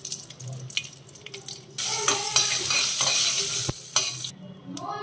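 Dried red chillies, curry leaves and turmeric fry and hiss loudly in a hot pan, a sudden burst of sizzling that stays steady and dense, with stirring scrapes over it and no talking.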